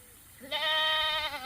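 A young goat on a farm bleats for its mother while she is being milked nearby, giving one long, loud, wavering cry of about a second, close and alone.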